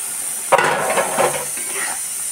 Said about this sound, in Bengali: এবার আমি টমেটোর পেস্টটা দিয়ে দিলাম এর মধ্যে